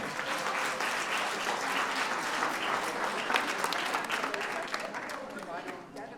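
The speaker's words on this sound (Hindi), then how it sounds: "मैं चाहूंगा कि बाहेती परिवार एवं मित्रगण जोरदार तालियों से माहेश्वरी परिवार का स्वागत करें।" Sustained applause from a large audience at a family welcome gathering in Jodhpur, dense and steady clapping that fills the whole stretch before easing slightly at the end.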